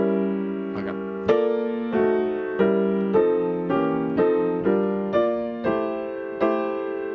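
Solo jazz piano plays drop 2 voiced chords in a bossa nova rhythm, about nine clear, ringing chord strikes at a steady, unhurried pace, each decaying before the next, close and alone.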